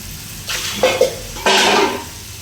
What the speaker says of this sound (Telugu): ఆలు కట్ చేసి పెట్టాం కదా, ఇవి కూడా వేసేస్తున్నా.